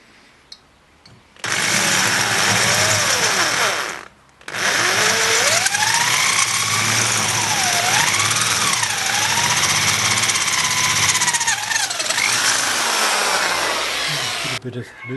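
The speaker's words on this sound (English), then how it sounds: "Tapping drill." A loud power drill whines continuously, its pitch rising and falling as it drills a tapping hole in a cast iron meat grinder's locking nut, with a brief pause before starting up again.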